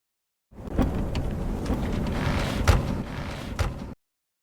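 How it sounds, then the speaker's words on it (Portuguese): In a cyberpunk audio drama, steady rain hisses under low, rolling thunder, with a few sharper rumbles and cracks; the sound is fairly loud and close, then cuts off abruptly. "Chuva desce na frente do velocímetro."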